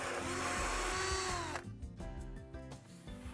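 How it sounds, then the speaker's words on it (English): A power drill fitted with a hole saw bites into a plant tower. A steady high whine is followed by a lower, stuttering grind as the cut finishes, heard close up. "Use the drill and hole saw to make the holes."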